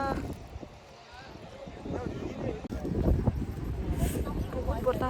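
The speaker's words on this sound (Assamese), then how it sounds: "বহুত বতাহ ইয়াত ঠাণ্ডা পুৰা বতাহ মাৰি আছে" Strong cold wind gusts at a riverside campsite in Shnongpdeng near Dawki, buffeting the microphone in rough, swelling bursts while people talk and meat roasts nearby.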